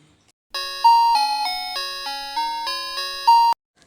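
A bright electronic chime plays a short melody of about nine ringing bell tones in quick succession, then stops abruptly.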